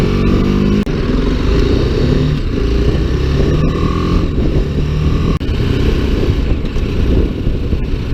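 A BMW G310GS motorcycle with taller sprocket gearing accelerates through the gears, its engine note loud and close throughout, with brief dips at the shifts.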